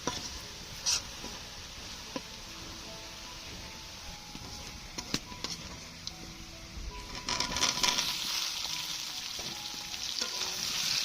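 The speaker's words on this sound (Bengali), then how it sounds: "পেঁয়াজটা লাল লাল করে ভেজে নেবো" Onions frying in a pan while being browned for potato curry, a steady crackling sizzle with scattered spoon scrapes that grows louder and busier toward the end.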